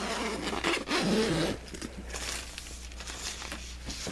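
The zipper on a Russian Bear UP Mini 2 tent is pulled open in a couple of quick, scratchy rasps, followed by softer fabric rustling and crinkling close by.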